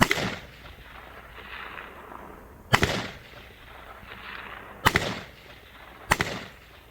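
Three separate rifle shots cracking out at long range during a 2-gun match, each a sharp distant report with a brief trailing echo, spaced a second or two apart over quiet ambient background.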